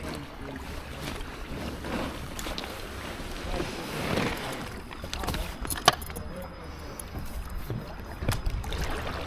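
An ultralight drybag packraft paddled along a canal between locks, with repeated soft splashes and drips of the paddle blades under steady light wind noise.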